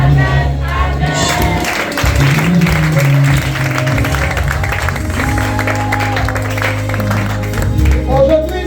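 A church congregation claps and cheers loudly and steadily throughout, mixed with voices and sustained musical tones underneath.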